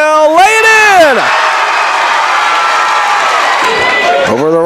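Basketball crowd at a high school sectional semifinal game roaring loudly and steadily for the Fairfield Mules after a steal, with a commentator's voice over the top at the start and end.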